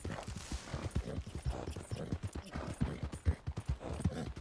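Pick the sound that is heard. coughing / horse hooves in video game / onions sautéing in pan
horse hooves in video game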